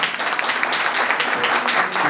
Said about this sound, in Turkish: Onlar için güçlü bir alkış rica ediyorum sizlerden.